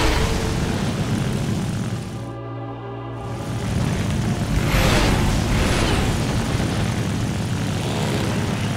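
A Lavochkin La-5 37th-series propeller fighter in a video game drones loudly and steadily with a throaty piston-engine roar, dipping briefly before swelling back, close and continuous with no talk.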